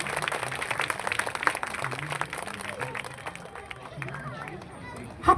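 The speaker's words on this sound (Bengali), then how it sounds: "জোরে হাত তালি।" An audience claps steadily at the close of a stage program, a dense patter of hands over a murmur of crowd chatter, ending in one sharper burst near the finish.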